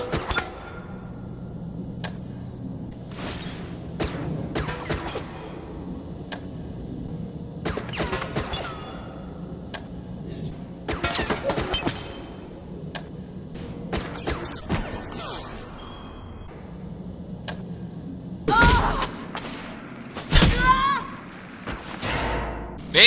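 Suppressed UBCS handgun fired in the game Resident Evil: Operation Raccoon City, a string of short muted shots at irregular intervals among game effects, with someone talking over parts of it.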